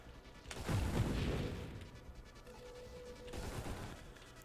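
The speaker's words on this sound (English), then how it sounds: "the longer I have to wait in between shots before I can fire my next shot" A ship in the Nova Drift space shooter fires a single heavy, booming shot that rolls out and fades, followed by a quieter second thump and a faint steady tone.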